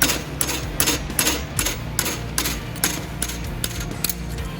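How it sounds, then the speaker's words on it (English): Metal punch struck by a hammer to drive out a roll pin on a Jeep carrier, a steady series of about eleven sharp, close, ringing impacts at a regular rhythm over a low background hum. "You need to take a punch in your hammer and punch that guy out."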